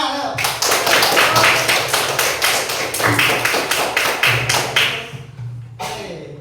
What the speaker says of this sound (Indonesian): Oke, tepuk tangan, ayo.